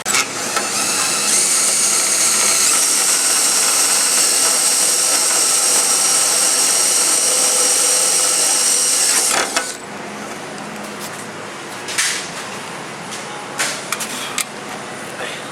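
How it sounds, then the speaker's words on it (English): A power drill bores through a rubber latch during installation, a loud continuous high whine for about nine seconds that then drops off into quieter intermittent tool noise and brief bursts. "I hate that drilling all the way through because I'm hitting that rubber"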